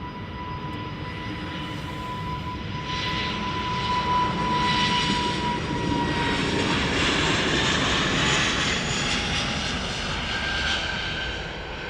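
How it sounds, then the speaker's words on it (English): Lufthansa Airbus A350 flying over at Amsterdam Schiphol, a sustained jet roar that builds and holds steady as the airliner passes overhead, with no voices. "Lufthansa A350 flying over."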